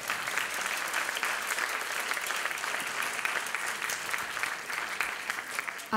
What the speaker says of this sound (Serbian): Veliki aplauz za naše seniore!